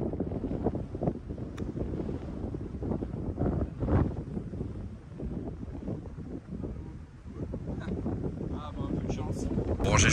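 Wind blows across an outdoor golf course and buffets the microphone in loud, rough gusts that rise and ease, with a voice talking over it.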